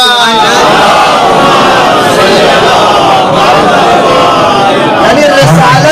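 A mosque congregation at a Shia majlis loudly chants salawat in unison, a roaring, dense mass of voices that fills the space at high volume for several seconds without pause.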